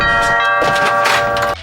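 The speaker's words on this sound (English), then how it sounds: "There's a doorbell in one episode." A two-tone doorbell chimes in an animated TV episode, its bright ringing tones sounding out clearly and sustaining for over a second before cutting off.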